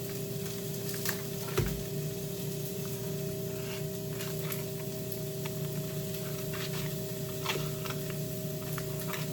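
Potatoes fry in butter in a pan with a steady, quiet sizzle and faint crackling ticks, while a constant low electrical hum runs underneath and no one speaks.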